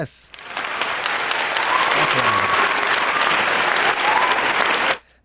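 A loud burst of clapping from a crowd swells quickly and holds steady for several seconds before stopping sharply, close and full.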